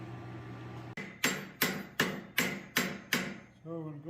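A blacksmith hammers forged metal flat on an anvil: seven sharp, ringing metallic strikes land in a steady rhythm, close and loud, with no voices over the blows.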